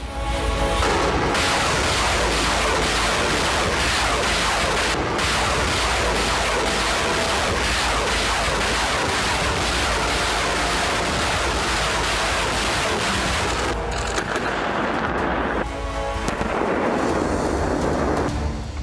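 Loud, continuous roar of heavy artillery fire and explosions from the Russia-Ukraine war, a dense rumbling barrage with sharp blasts near 1 and 5 seconds and a brief thinning toward the end.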